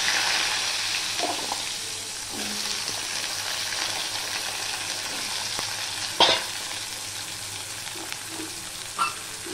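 Potatoes frying in tempered oil for a vegetarian papaya dish, sizzling with a steady hiss and a few soft stirring clinks. No one speaks.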